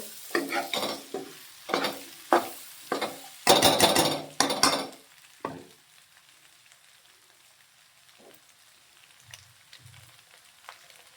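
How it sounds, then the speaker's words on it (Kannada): A spoon stirs a potato mixture in a pan with a series of close, rhythmic scraping and clattering strokes over a light sizzle, then goes quiet, leaving faint frying and a couple of soft knocks. "ಇದಕ್ಕೆ ಆಲೂಗೆಡ್ಡೆ ಹಾಕಿದ ನಂತರ ಈ ಥರ ಚೆನ್ನಾಗಿ ಮಿಕ್ಸ್ ಮಾಡ್ಕೊಬೇಕು"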